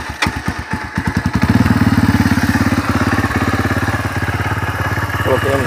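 A motorcycle fitted with a 2-into-1 exhaust and 76,000 km on it cranks, fires up and settles into a loud, close, steady idle with a rapid throbbing pulse.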